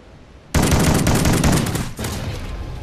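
Loud, close gunfire in Call of Duty: Ghosts Infected mode, a sudden dense burst of rapid automatic shots that fills the clip after a quiet start.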